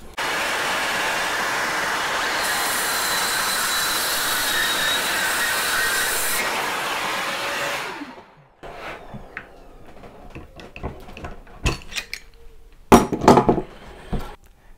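A Peugeot 18V EnergyHub cordless circular saw cuts through wood: a loud, continuous close whine for about eight seconds, then it cuts off abruptly, followed by scattered knocks and handling clatter.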